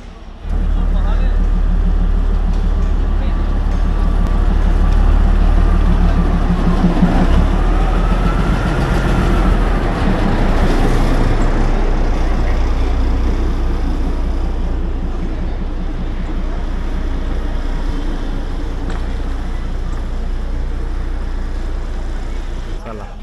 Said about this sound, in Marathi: सकाळच्या 10:15 वाजता आपली ट्रेन आता प्लॅटफॉर्मवर लागत आहे.